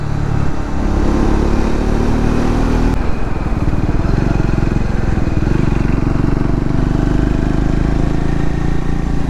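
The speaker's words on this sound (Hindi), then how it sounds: "बाइक का एग्जॉस्ट का जो नोट है ना इतना प्यारा आ रहा है ना" A Triumph motorcycle's exhaust note while riding on a winding highway: a loud, close, continuous engine drone that shifts pitch as the throttle changes, with wind noise throughout.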